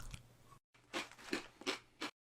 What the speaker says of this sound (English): Grab your favorite corn nuts and let's get to crunching.